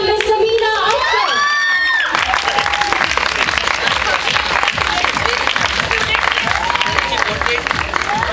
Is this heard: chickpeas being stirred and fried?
no